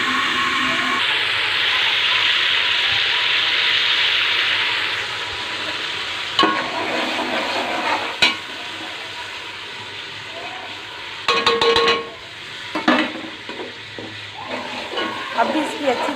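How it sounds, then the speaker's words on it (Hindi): Ground garlic, ginger, tomato and green chilli paste is sautéed and stirred in a pan. A continuous sizzle comes first, then scraping and stirring clatters continue with a voice talking over them. "अभी इसकी अच्छी तरह से मैं बुनाई करूँगी। लहसुन अदरक टमाटर सब्ज़ मिर्च ये मैंने पीसी हुई थी, अच्छी तरह से इसकी बुनाई करूँगी।"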